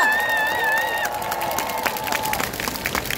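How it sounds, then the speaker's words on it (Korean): A crowd at a Busan citizens' rally for the impeachment of President Yoon Suk-yeol applauds and cheers, a dense wash of clapping and voices, with a brief whistle-like tone early on. "서로를 향해 응원과 고맙다는 마음을 담아서 박수 한번 보내주면 좋겠습니다"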